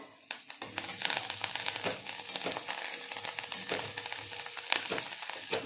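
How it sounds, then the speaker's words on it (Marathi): Finely chopped coriander sautéed in ghee for mung dal khichdi gives a steady, close sizzle and frying crackle, with occasional stirring scrapes throughout and no talking. "ते आपण सर्व छानपैकी परतून घ्यायचं आहे आपल्याला"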